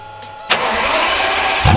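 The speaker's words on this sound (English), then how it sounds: "That V12 sounds so good." Pagani Zonda V12 engine starting: a short starter whir, then the engine catches with a sudden loud burst and settles into a rough, throaty idle, with a further blip at the end.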